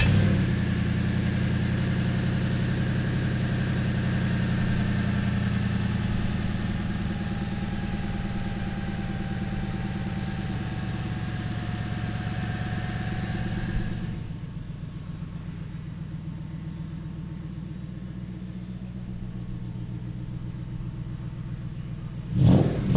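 A Ford Coyote V8 in a Factory Five 1965 Shelby Cobra replica rumbles steadily at idle with some revving, loud and close, then drops to a lower idle before a brief burst near the end.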